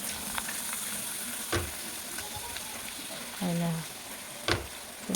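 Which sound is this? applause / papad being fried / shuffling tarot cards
papad being fried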